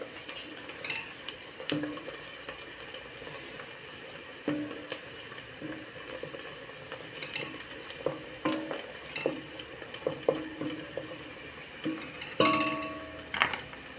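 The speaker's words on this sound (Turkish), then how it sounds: "Soğanlarımın iyice şöyle kavrulması gerekiyor." Onions frying in a pan for a Turkish broad bean dish, a steady sizzle broken by repeated scrapes and clinks of a stirring utensil against the pan, close and without talk.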